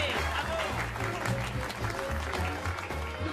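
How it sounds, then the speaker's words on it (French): Wedding guests break into loud, dense applause at a reception, a sustained close patter of many clapping hands with voices mixed in. "Sous vos applaudissements, faites du bruit."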